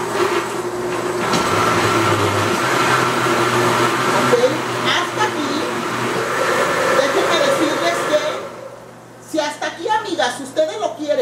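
A kitchen blender grinds chiles for a spicy fettuccine Alfredo sauce, a loud steady whirring roar running for several seconds before cutting off, after which someone speaks.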